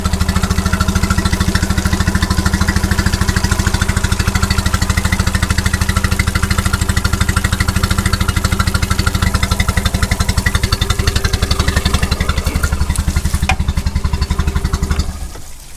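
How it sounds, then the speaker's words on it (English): A Mercury 25 hp outboard engine fitted with new spark plugs runs steadily at close range, a loud, even, rapid mechanical putter that holds constant before cutting off near the end. "I believe it runs much better now with the new spark plugs."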